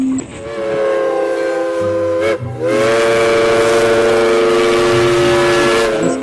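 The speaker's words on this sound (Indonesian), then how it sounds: "Wow, lokomotif kereta api." A toy train locomotive gives off a loud, continuous electronic whistle-like tone that fills the whole clip, with a brief dip partway through before the tone resumes.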